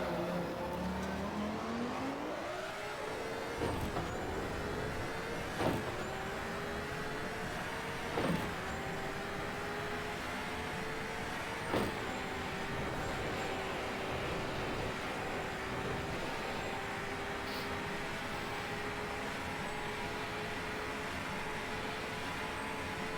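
A Group C race car engine in the Automobilista racing game drones loudly and steadily throughout, its pitch climbing and falling through several gear changes with brief shift blips, and no voices over it.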